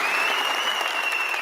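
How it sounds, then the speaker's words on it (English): Audience applause gives a short, dense burst of steady clapping, with a faint tonal whine running through it. "shall we give him a round of applause?"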